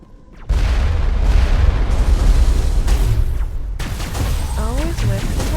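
A loud rocket explosion bursts suddenly in the Mass Effect video game, a deep booming blast followed by sustained rumbling and scattered combat noise.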